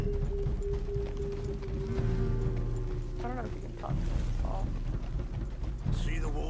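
Horse hooves clip-clopping in the video game Red Dead Redemption II, a steady rhythmic clatter under a low rumble, with voices talking over it.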